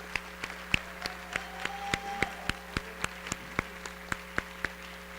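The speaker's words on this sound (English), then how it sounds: "let's give these people a round of applause" Sparse, evenly spaced claps from a small audience at a high school military enlistment ceremony, steady and moderately loud over a faint electrical hum.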